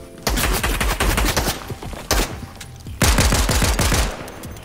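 Pistol fire in a shooting video game running at a low, laggy frame rate: three bursts of rapid, uneven shots separated by brief pauses, loud and close, with no talk over them.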